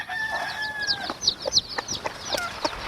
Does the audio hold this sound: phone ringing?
no